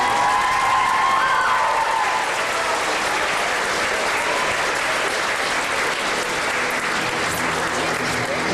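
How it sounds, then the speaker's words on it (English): A large audience at a 2004 organ-donation awareness event in Belleville gives warm, sustained applause, loud and dense throughout with a few cheers mixed into the clapping. "So I'd like to give you a warm applause for Kristopher."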